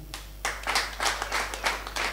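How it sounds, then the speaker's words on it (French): Audience applause at a live French comedy stand-up show, a few seconds of scattered clapping that starts up sharply and keeps a bright, steady patter with no talking. "Par applaudissement."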